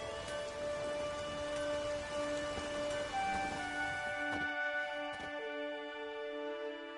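Steady rain falling in the video game The Witcher 3, a continuous dense hiss with scattered drop patter, joined by sustained tonal music or ambience that thins out in the last few seconds; no one speaks.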